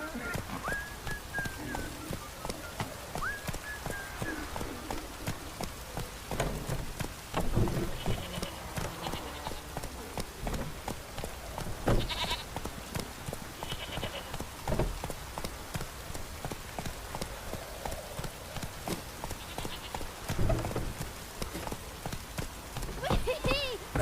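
Roach, the horse in The Witcher 3, gallops in a steady rhythmic clip-clop of hooves over a soft rain-like hiss, with a voice speaking over it at times.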